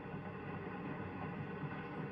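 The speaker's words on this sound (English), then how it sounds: "The huge locomotive sets the train in motion" The Santa Fe Super Chief locomotive of 1954 sets its train in motion, heard as a faint, steady rolling rumble with no voices.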